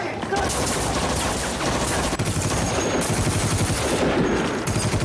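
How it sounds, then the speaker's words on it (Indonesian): Dense, continuous automatic gunfire from troops firing in a film scene, loud and sustained for the full few seconds with rapid overlapping bursts and a brief dip midway. "pasukan Apes telah mengepung dan menembaki mereka"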